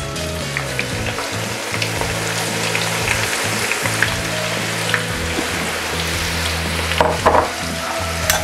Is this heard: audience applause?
no